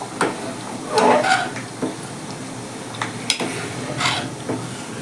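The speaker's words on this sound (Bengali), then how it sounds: "টমেটোটা দিয়ে দিচ্ছি।" Tomato quarters drop into a sizzling pot of vegetarian bhog khichuri spiced with crushed cardamom, giving a few soft bursts of hiss and splashing over a low, steady sizzle, with occasional light clatter of a utensil.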